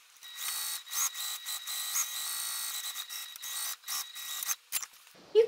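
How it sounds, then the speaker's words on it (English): Sewing machine stitching along the edge of a tote bag slip pocket: a steady mechanical whir carrying a faint high tone, broken by short pauses and restarts, fairly quiet and close, with no voices. "I'm just going to sew around that edge of the slip pocket"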